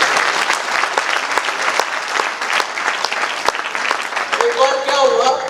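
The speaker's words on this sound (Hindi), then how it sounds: "पूरी टीम रॉयल के सभी फाइटर्स के लिए एक बार जोरदार तालियां होनी चाहिए।" A crowd claps steadily in loud, sustained applause, with a voice starting to speak over it near the end.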